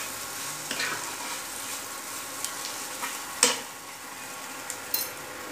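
Masala, onion and garlic with a bay leaf frying gently in a pan, a soft steady sizzle broken by a few scraping stirs and light clinks of a spoon against the pan, close and quiet, no talking.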